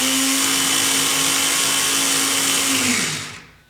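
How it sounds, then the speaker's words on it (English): A Carrera Dodge Charger slot car motor spins on a tech block, a loud, steady high-pitched whine that holds evenly for about three seconds before winding down quickly to silence. "Now we're going to put this Carrera Dodge Charger on here, and we're going to see what RPM it runs."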